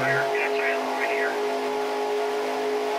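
In-car audio from a race car at Talladega: a steady high engine drone with a whining tone heard from onboard, while a voice talks over it at the start.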